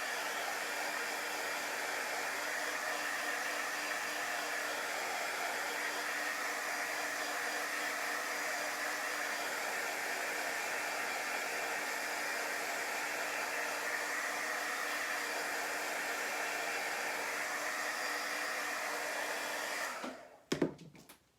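A handheld dryer blows steadily on two layers of chalk-paste craft work, a constant, fairly loud whooshing hum that runs unbroken before clicking off at the end.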